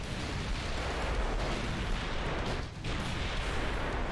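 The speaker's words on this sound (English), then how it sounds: "Oh, torpedo detonation." A torpedo detonation in the naval warfare game Ultimate Admiral: Dreadnoughts, a heavy, continuous rumbling roar of explosion and battle noise with a brief dip before the booming resumes, no voices over it.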